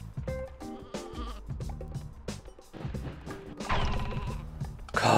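Sheep in the video game Sheep dog 'n' wolf bleat repeatedly amid cartoonish game sound effects, thuds and clattering, with a busier crash toward the end.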